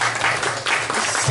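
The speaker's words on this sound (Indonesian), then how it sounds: "beri tepuk tangan untuk beliau-beliau yang" Audience applause at an Islamic study gathering held in a home, a dense steady patter of many hands clapping together, close and continuous throughout.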